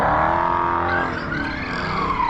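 Car tires screech loudly on the road from a Hellcat, a long continuous squeal with shifting pitch and engine noise underneath, close and sustained throughout.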